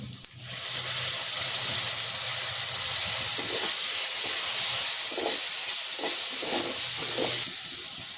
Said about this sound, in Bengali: পেঁয়াজটা লাল লাল করে ভাজা হয়ে গেছে এবার একটু মশলা দিয়ে দেবো আদা লঙ্কা